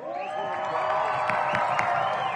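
A crowd at a priests versus seminarians basketball game cheers and whoops in a steady roar, with scattered claps.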